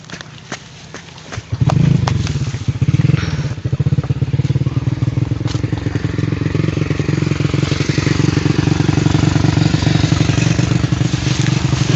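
Motorcycle engine kicks into life after a couple of knocks, then settles into a loud, close, steady idle on a road at night, running continuously.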